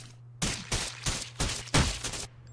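Sniper rifle fire in the battle royale game Rules of Survival: five loud, evenly spaced shots in quick succession, each a heavy boom with a short trailing crack, alone against a low steady hum.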